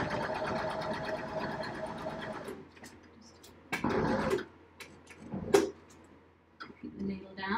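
A sewing machine stitches over fabric, first in a steady run and then in short bursts with pauses. A person talks over and between the stitching.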